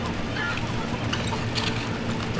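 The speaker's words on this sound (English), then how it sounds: "Now we're meeting the horses for real." Horses clip-clop in the Western video game Call of Juarez: Gunslinger, with steady hoofbeats blended into a dense, continuous bed of game noise that runs through the whole moment.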